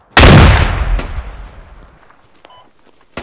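A grenade detonates in a hardcore tactical squad FPS game: one sudden, loud, close blast with a heavy low thump that rumbles down over about two seconds, followed by a brief faint crack near the end.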